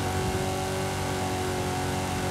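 Subaru engine revving hard in Forza Horizon 5, a steady, loud, continuous roar held at high revs throughout, close and dense with no talk over it.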